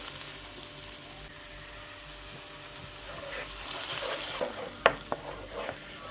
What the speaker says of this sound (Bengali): তেলের মধ্যে আমি এখন ব্লেন্ড করা পেঁয়াজ আর রসুন দিয়ে দিলাম।